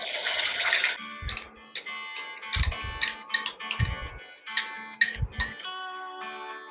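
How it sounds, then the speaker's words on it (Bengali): A bowl rinsed with a little water at the kitchen while cooking pistachio chicken: a splashy rush of water at first, then a series of short splashes and light clinks of the bowl, close by. "একটু বাটি ধুয়ে"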